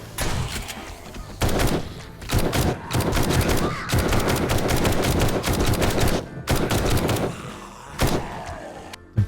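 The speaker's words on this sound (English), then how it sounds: "The beauty of automatic weapons." Automatic weapon fire in the zombie survival game 7 Days to Die, loud sustained bursts of rapid shots broken by short pauses, close and dense, with no speech over it.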